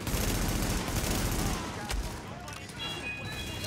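Rapid gunfire in the shooter game The Division, a dense fusillade in the first half that thins out afterward, mixed under players talking.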